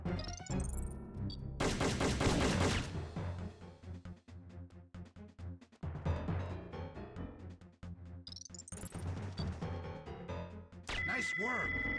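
Gunfire in an action video game: bursts of rapid shots and sharp cracks rattle over busy game audio, with a voice speaking in places.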